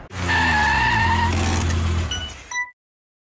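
An Ariel Atom road car drives close by, its engine note holding a steady harmonic drone with a rising pitch sweep, then cutting off sharply near the end of a short burst.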